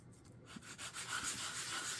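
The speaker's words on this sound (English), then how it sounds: "I find that the sort of the higher number grit sandpaper works really well" High-grit sandpaper rubs back and forth over a cast plaster of Paris piece, soft rhythmic scratchy strokes heard close up and quiet, with no talking.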